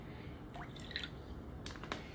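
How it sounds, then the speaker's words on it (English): Water drips and splashes as it is added to a dye mixture for coloring sola wood flowers, making a few short, close liquid plinks in a quiet room. "Let me add a little bit more water because I wanna show you the different shades."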